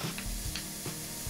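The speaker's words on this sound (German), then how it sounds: "Dazu geben wir dann das Rinderhack und zerstoßen es" Minced beef sizzles steadily in a frying pan while a utensil repeatedly breaks it up, with soft scraping strokes recurring every half second or so over the constant close fry.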